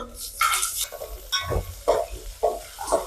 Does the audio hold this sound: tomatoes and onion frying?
yes